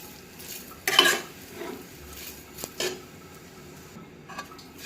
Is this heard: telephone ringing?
no